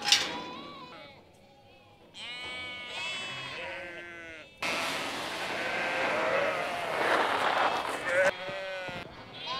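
Ewes and lambs bleat repeatedly at close range, wavering cries overlapping one another, followed by a stretch of louder mixed noise and more bleats; a person talks under the flock.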